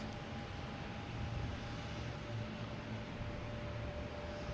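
A jet airliner, a JetBlue flight, just landed at Boston Logan Airport, heard as a steady, distant engine rumble with a faint high whine holding level throughout, no talk over it.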